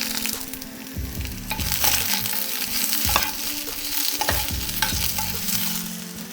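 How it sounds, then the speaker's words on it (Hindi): Garlic, carrots, capsicum and spinach sauté in a hot pan with steady sizzling and repeated scraping stirs of a spatula, loud and close throughout with no talk. "उसमें हम डालेंगे सबसे पहले लहसुन भुनने के लिए। उसके बाद हम डालेंगे गाजर, शिमला मिर्च"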